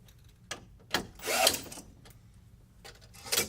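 A power drill runs in short bursts while tightening bolts on an under-counter swing arm TV mount, with one longer whirring spell in the middle and small clicks between, close and without talk.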